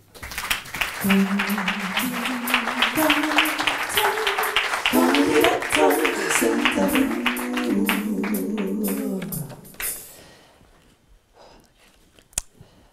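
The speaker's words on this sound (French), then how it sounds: "Je vous demande d'applaudir le professeur Odysseus" A TV studio audience claps steadily for Professor Odysseus over a bright musical jingle, the applause and music running together for about ten seconds before cutting off into near silence.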